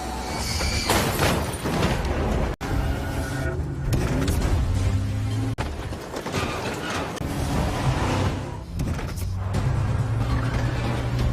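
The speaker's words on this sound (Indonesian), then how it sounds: "Lino kembali mengendarai mobil Karas, tapi dengan bagian belakang mobil yang terbakar" A car whose rear end is on fire drives along, with continuous mechanical engine noise, rattling and clattering, and a couple of sharp cuts in the din.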